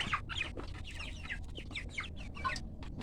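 Chickens on a poultry farm clucking at feeding time, a busy overlapping chorus of short clucks and squawks from several birds nearby, over a steady background hum.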